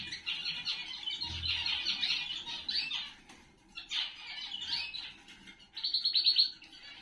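A goldfinch held in the hand gives bursts of high, rapid chirps and squeaky twittering, close and fairly quiet, with short pauses between the runs of calls.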